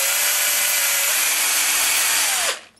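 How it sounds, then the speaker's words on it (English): A loud power drill runs continuously at close range, drilling into poles, its motor pitch sagging slightly under load before it abruptly cuts off. "drill too deep into my poles"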